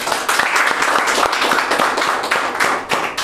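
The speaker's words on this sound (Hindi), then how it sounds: "क्यों ना हम परमेश्वर के लिए जोरदार ताली बजा सकते हैं" A church congregation at a Sunday evening service breaks into loud, sustained applause, a dense, even wash of many hands clapping together with no voices over it.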